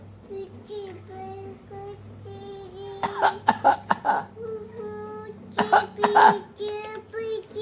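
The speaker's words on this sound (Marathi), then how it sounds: "खोकला आलाय मला, काय करू?" A person coughs several times in short bursts amid a domestic conversation, with voices talking around the coughs and near-field coughing clustered in two groups.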